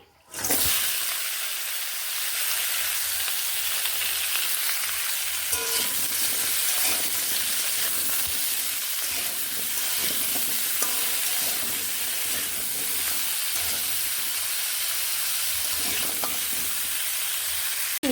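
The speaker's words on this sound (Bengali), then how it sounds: "কুমড়ো ও বেগুনগুলো ভাজা হয়ে গেছে" Pumpkin and eggplant pieces fry in oil in a wok for a vegetarian mixed vegetable curry, a steady dense sizzle and crackle with occasional stirring scrapes, loud and close throughout with no talking.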